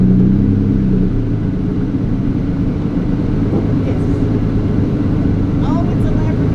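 A Lamborghini Diablo Roadster engine idles in a fast-food drive-thru, a loud, steady low rumble filling the whole stretch with no break.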